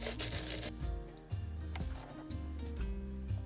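Dried salt being rubbed off watercolour paper by hand, a close, continuous scratchy rubbing in repeated strokes, heard on its own without speech.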